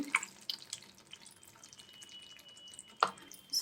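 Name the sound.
pouring gram flour water into onion tamarind broth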